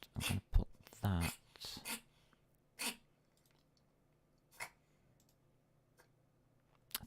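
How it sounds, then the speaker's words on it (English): A pet sneezes a few times in short, sharp bursts close to the listener, followed by softer snorts and scattered clicks in a quiet indoor room. "You just sneezed all over me."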